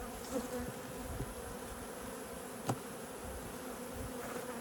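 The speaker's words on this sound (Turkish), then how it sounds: "arıları gördüğünüz gibi arkadaşlar şu an ham petekleri kestane balıyla örmekle meşgul" Honeybees buzzing at a hive as they build fresh comb with chestnut honey, a steady dense hum close by with no talking.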